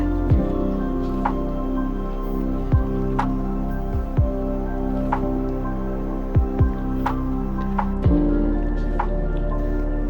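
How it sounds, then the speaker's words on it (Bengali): Duck meat braises in a pan, giving a steady close sizzle and bubbling with occasional wet squishing stirs and scrapes spaced a second or two apart. "তো আমি এখানে একটু সময় নিয়ে মাংসটা কষিয়ে নিব"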